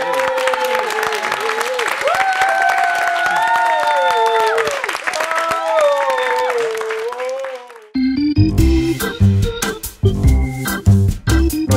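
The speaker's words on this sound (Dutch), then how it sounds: "Dan vind ik dat we nog eens een extra applaus mogen geven voor jezelf," Audience applause at a cultural centre event in Leopoldsburg, a dense steady patter of clapping with voices and tones over it for about eight seconds, then cut off abruptly by loud music.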